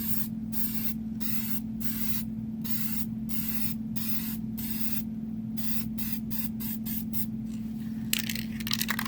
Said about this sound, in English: So this is the single coating of the charred accelerator.